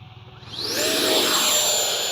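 X-Fly Sirius 80mm RC sport jet on landing approach, a quiet hum that swells into a loud, rising whine as the engine spools up, then holds steady and close.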